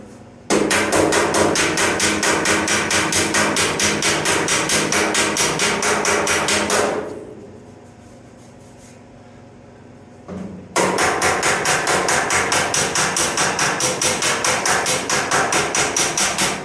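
Metal patch panels on a truck are hammered in a fast, loud, close run of evenly spaced blows. They pause for a few seconds, then resume at the same brisk rhythm.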